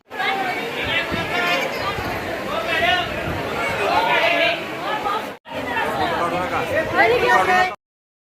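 A dense crowd of devotees chatters at the Mahalakshmi (Ambabai) temple in Kolhapur during the Navratri festival, a continuous, close babble of many overlapping voices with one brief break.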